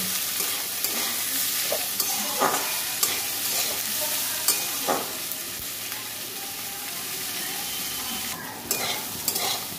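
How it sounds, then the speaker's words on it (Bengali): Onions frying in oil for a potato-onion bhaji, a continuous close sizzle punctuated by repeated scraping strokes of a spatula against the pan, with no talk. "দুটো পেঁয়াজ কেটে রেখেছি, দিয়ে দিচ্ছি। পেঁয়াজ আলু ভাজি রুটির জন্য"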